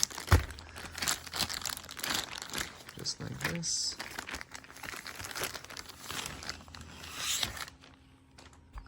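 A plastic bag crinkles and rustles close up as a Lenovo Ideapad 3 laptop is unboxed, bursts of crackling handling noise with soft knocks, under someone speaking briefly.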